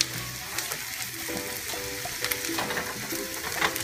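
Black rice and toasted almonds cook in a pan with a soft, steady sizzle, broken by light stirring scrapes and small clicks, close up and with no voices.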